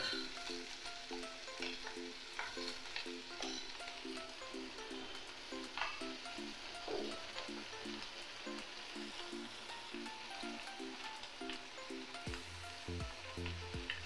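Jute leaves frying in a pan give a continuous bright sizzle with faint stirring scrapes, close and steady, with a low hum underneath and no talk.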